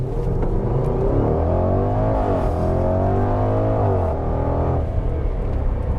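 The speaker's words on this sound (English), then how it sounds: "you didn't really hear the supercharger whine, but I think you actually can" A supercharged 2021 Range Rover Velar SVAutobiography accelerates hard, its engine note climbing with a rising mechanical whine layered over a steady, loud rumble throughout.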